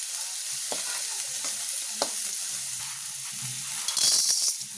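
Onion, garlic and dried red chillies sautéing in a pan for a chutney, with a steady oily sizzle under intermittent scraping and stirring knocks of a spoon, growing louder near the end.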